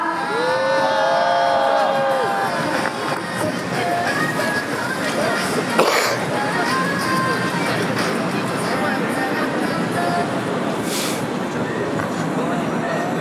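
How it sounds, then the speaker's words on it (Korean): A crowd at a candlelight protest rally in Incheon cheers and whoops continuously, loud and close, with a shrill whistle early and a sharp clap or bang midway. "우리 강주수 대표님을 초를 높이 들어서 환호로 맞이하겠습니다"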